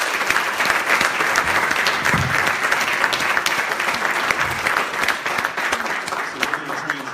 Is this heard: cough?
no